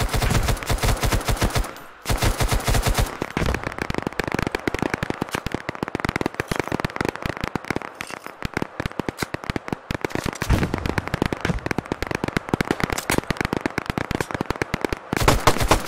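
Intense, nonstop automatic gunfire from a military video game firefight: dense, loud, rapid volleys of many weapons overlap, with a brief pause about a quarter of the way through.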